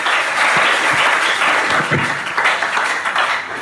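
A church congregation applauds and cheers in praise, dense sustained clapping with voices mixed in, loud and continuous throughout.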